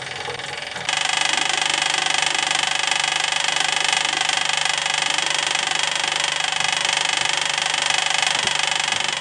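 Steady mechanical whir and hum of an electric fuel pump draining gas from a forgotten Jeep CJ5 rock crawler, starting abruptly after a brief quiet moment and running continuously and loud to the end.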